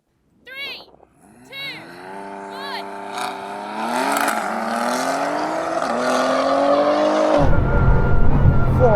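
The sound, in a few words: Bugatti Chiron Super Sport or BMW drag racing, skidding sideways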